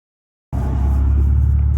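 A car on the way to a Chicago car meet: after half a second of silence a loud, low engine rumble starts abruptly and holds steady and close.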